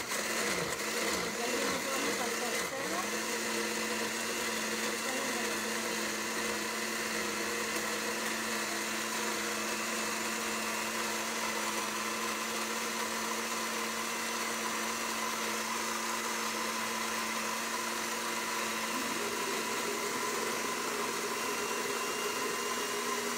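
A kitchen blender runs continuously while blending soaked chiles with broth for Mexican mole, a steady motor whine with a brief changing churn at the start and a faint shift in pitch later as liquid goes in.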